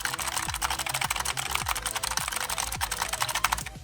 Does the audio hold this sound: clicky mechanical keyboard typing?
yes